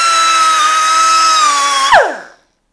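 A Bosch GWG 12V-50 S cordless grinder works on material with a loud, steady high-pitched motor whine, then is switched off and winds down quickly into silence.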